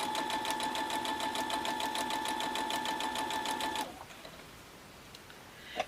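A sewing machine stitches pairs of quilt blocks in a fast, even mechanical chatter, close and steady for almost four seconds before stopping abruptly, leaving quiet room sound.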